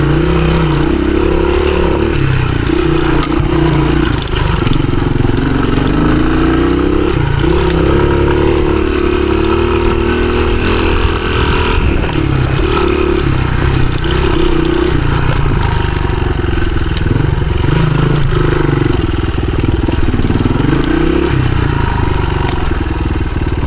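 A 1983 Honda XR200R climbs enduro trail hills, its single-cylinder engine chugging loud and close in low gear with continuous throttle swells and rough clattering over terrain.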